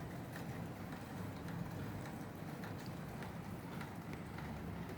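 Gentle rain falling outdoors, a soft continuous patter with scattered faint drips, quiet and steady throughout with no voices.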